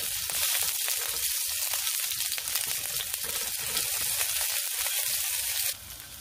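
Ginger sizzles in hot oil in a wok over medium heat, a dense, even crackling hiss heard up close that drops away sharply just before the end.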